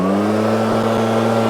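An old Husqvarna leaf blower roars at full throttle, a loud, steady engine drone with a strong harmonic whine, close by.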